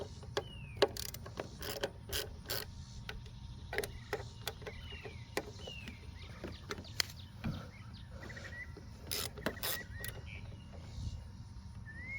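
Ratchet working loose 8mm carburetor bolts on a Craftsman push mower, sharp close clicks in irregular bursts over a low steady background hum, with faint birdsong outdoors.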